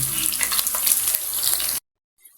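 Steady, loud sizzling of pork frying in a hot pan, continuous crackle that cuts off abruptly, followed by brief quiet.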